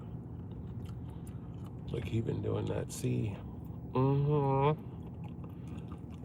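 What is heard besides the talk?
loud gum chewing while driving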